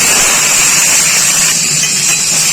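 Loud, steady sizzling hiss as tomatoes hit hot oil tempered with panch phoron, a continuous bright crackle with no breaks and no talking.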